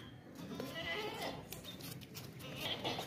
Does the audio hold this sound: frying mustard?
no